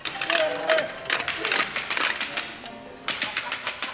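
Failing airplane stage effect made with half a bicycle: an uneven, sputtering mechanical clatter of rapid clicks that stops and restarts in bursts, with a voice talking over part of it.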